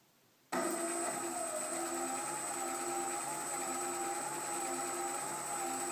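A home-built e-bike hub motor on a Lycra racer switches on and runs at a steady low idle, a continuous close electric whine with sustained tonal hum and a faint rising pitch as the throttle is eased up.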